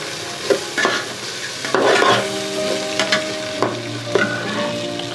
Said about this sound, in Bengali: তো মুগ ডালটা হালকা এর সাথে ফ্রাই করে নিচ্ছি একবারে।